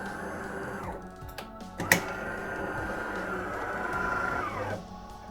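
A DeLonghi Caffe Corso ESAM 2502 espresso machine runs a rinse cycle with no coffee loaded, its pump humming steadily for several seconds with one sharp click near the start before the whirr stops.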